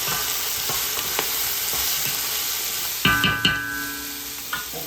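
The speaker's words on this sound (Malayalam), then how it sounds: "ഗാർലിക്, നന്നായിട്ട് ഇളക്കി കൊടുക്കാം." Ginger and garlic sizzle in hot oil in a pan while being stirred, a continuous frying hiss broken by a few sharp scraping clinks of the spoon against the pan partway through.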